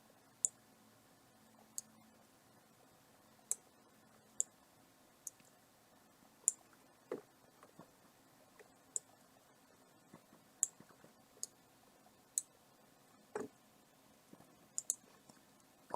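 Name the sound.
computer mouse clicking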